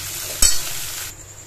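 Whole cumin seeds go into a hot pan and burst into a sudden crackling sizzle that flares briefly, then settles into a steady hiss alone.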